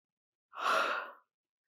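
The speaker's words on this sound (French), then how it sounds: "j'étais bien et d'un seul coup, des bâillements" A single breathy human yawn rises and fades in about three-quarters of a second, close and isolated between stretches of silence.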